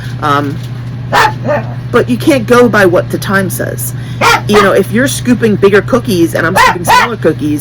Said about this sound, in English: Excuse the barking dog in the background.